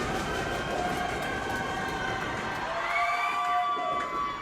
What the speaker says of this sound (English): this sold-out crowd is firmly behind M3